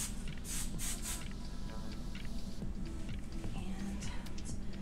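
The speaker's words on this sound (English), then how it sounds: "Let's spray it down." Hairspray is sprayed onto a teased cosplay wig in a few short hissing bursts near the start, with softer spritzes later, over room noise and background activity.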